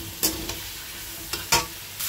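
Spice paste of cumin, coriander and ginger with turmeric being stir-fried over raised heat for a fish curry, giving a steady low sizzle with a few sharp spoon scrapes and clacks at irregular intervals, close and without talk.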